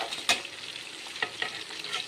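Fish pieces fry in oil in a white pot while a ladle stirs and scrapes them, making a soft sizzle broken by several sharp knocks of the ladle against the pot, with no voices.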